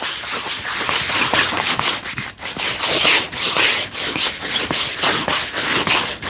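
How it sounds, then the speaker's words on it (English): Wet sanding a lacquer or film finish on a wooden drawer cabinet with 3000 grit sandpaper gives a steady, close, hissing rub in back-and-forth strokes, with a brief pause partway through. "This is 3000 grit sandpaper. And what that's going to do is smooth out the surface without leaving a bunch of scratches."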